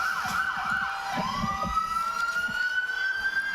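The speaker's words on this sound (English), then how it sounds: "We've got more horns. We've got more sirens." A wailing siren rises and falls steadily, fairly close, with a low rumble of traffic underneath and no talking.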